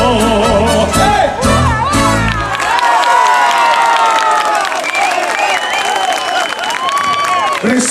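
A crowd at an open-air orchestra dance in San Fins, Vedra, cheers and whoops loudly after a ranchera ends, with shouting children and scattered clapping. A brief burst of music opens it, and a loud, steady roar carries on to the end.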